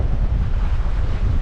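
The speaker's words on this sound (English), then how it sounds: "a bit of wind" Strong wind buffets the microphone by the sea, a loud, constant low rumble with no breaks and no other sounds standing out.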